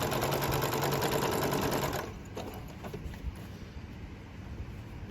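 A sewing machine runs a quarter-inch seam along a fabric mask with a fast, even mechanical whir for about two seconds, then stops, leaving faint handling noises.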